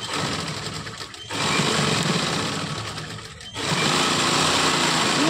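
An electric sewing machine stitches the crotch seam of palazzo pants, running in a steady fast whirring drone with two brief pauses before it starts up again, close and loud, with no talk.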